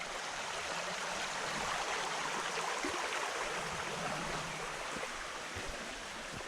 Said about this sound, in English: the creek is running a little bit on that side too